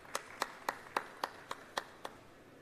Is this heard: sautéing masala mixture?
no